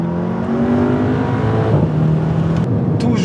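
A car cruises along with its windows down, a steady engine drone and road noise close by with rushing wind, the pitch shifting slightly as it goes.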